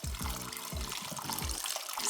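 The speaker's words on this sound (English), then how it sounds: "we're gonna strain this broth on top" Instant Pot chicken pho broth with onion, ginger, garlic and cilantro being strained, a steady close splashing pour of liquid through a strainer with faint gurgling, continuous for about two seconds with no talk.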